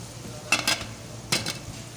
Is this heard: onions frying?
yes